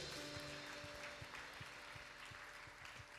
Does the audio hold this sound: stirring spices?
no